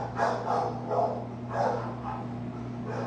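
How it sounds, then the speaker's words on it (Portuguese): A dog barks repeatedly indoors in a home, several muffled woofs in an irregular rhythm at moderate distance, over a steady low electrical hum. "Se o cachorro estiver atrapalhando, não repara não, eu estou sozinho em casa"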